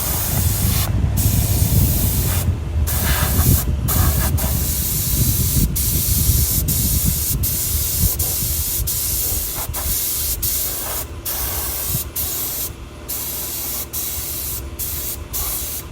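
Spray gun hisses steadily as it lays primer on the undercarriage and engine components of a 1956 Willys Jeep, loud and close, broken by several brief pauses between passes.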